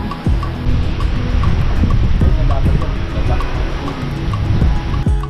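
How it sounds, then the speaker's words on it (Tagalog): Strong wind buffeting the microphone outdoors, a continuous rough roar with gusty swells and occasional thumps throughout. "Ibang grabe lakas ng hangin."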